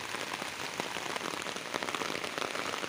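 Steady rain falls on surfaces outdoors, a dense, even patter with scattered louder drops, continuous and fairly close, with no talking.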